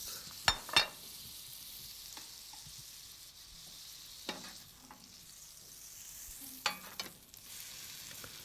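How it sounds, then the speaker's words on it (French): Butter melts in a frying pan for a Normandy-style crêpe, giving a soft, steady sizzle with a few brief utensil clatters near the start and end. "Vous faites fondre du beurre dans une poêle"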